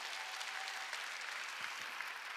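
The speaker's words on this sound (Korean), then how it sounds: "깨달은 사람만 박수 치라." A church congregation at a Korean Wednesday worship service claps steadily throughout a short, even burst of applause with no pauses.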